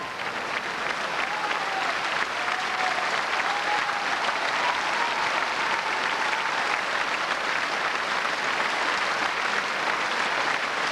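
An audience at a cabaret marathon in Opole applauds a performer, a steady, dense sheet of clapping from a large hall that continues evenly for around eleven seconds, with faint voices briefly audible beneath.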